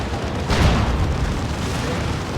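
A Baneblade super-heavy tank fires its Mega Battle Cannon in the real-time strategy game Warhammer 40,000: Dawn of War 2, a single deep boom rising over steady battle noise and then fading into the ongoing din.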